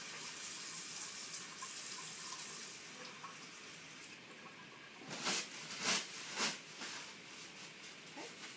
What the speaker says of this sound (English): will wash my hands.